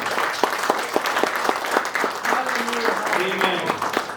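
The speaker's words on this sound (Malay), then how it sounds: "Satu tepukan yang kuat bagi dia." A church congregation claps together in loud, crisp applause with distinct individual claps standing out, then a voice speaks as the clapping carries on underneath.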